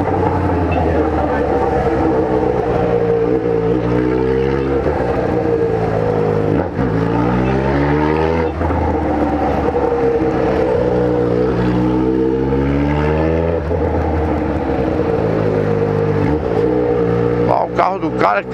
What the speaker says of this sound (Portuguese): Carro do cara, carro que será que é isso?